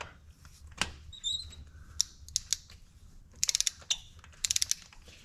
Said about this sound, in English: So now we're gonna get our torque wrench, and we're gonna torque them down to 18 foot-pounds.